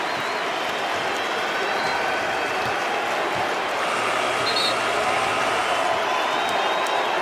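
A large NBA home crowd roars and applauds continuously during a Kobe Bryant tribute, a dense wash of cheering that stays loud and steady throughout.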